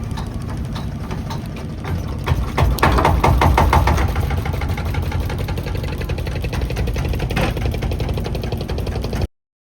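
A boat's motor on the Ganges at Varanasi drones steadily and fairly loud, with a rough rhythmic engine pulse that swells briefly near the middle before settling into an even run until it cuts off abruptly.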